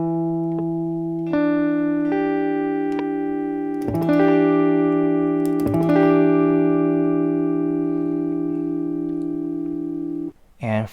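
Electric guitar chord picked one string at a time, each note ringing on and stacking into a sustained chord, with a second picked pass before the notes stop abruptly.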